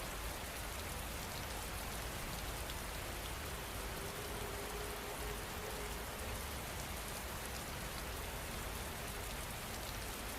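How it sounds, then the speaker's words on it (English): Steady rain falling, a dense, even wash of drops on surfaces that holds constant throughout with no talk, filling the space at a soft, soothing level. "the rain will continue for the next 30 minutes, a perfect time to relax and drift off"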